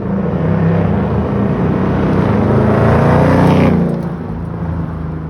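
A 2021 Ford Mustang GT V8 with a Flowmaster axleback exhaust drives past, a loud, deep rumble that builds, peaks as it passes close, then fades away, no talk.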